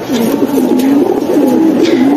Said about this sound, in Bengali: এটা হচ্ছে বাঘা কবুতর